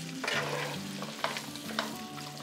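Diced potatoes and tuna cooking together in a pan for a tuna pie filling, a steady low sizzle under a few stirring scrapes, close up with no one talking.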